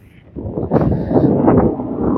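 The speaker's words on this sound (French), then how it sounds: "Le vent est vraiment très désagréable." Strong wind gusts near Nonza and Saint-Florent, Corsica, roar and buffet the microphone in a dense, low rumble that swells and stays loud throughout.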